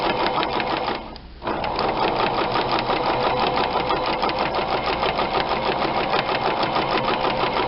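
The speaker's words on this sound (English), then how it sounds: "Straight stitching." A sewing machine runs a steady straight stitch at stitch length 2, with a fast, even mechanical whir that briefly dips near the start and then continues loud and close to the end.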